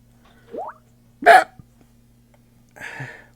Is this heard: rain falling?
no